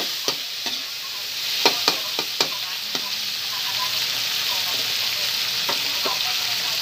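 Tomatoes pressed down and sautéed in a hot pan while cooking tawsi bangus, a steady sizzle under sharp scraping taps of a utensil against the pan.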